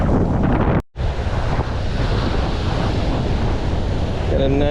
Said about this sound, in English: Probably can't hear any of this with the wind.